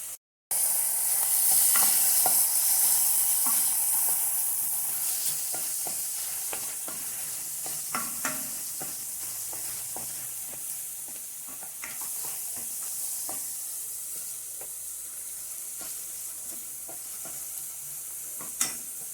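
Chopped garlic sizzles in a pan with softened onion as filling for a chicken pie, a steady close frying hiss broken by scattered clicks of stirring, with no voices.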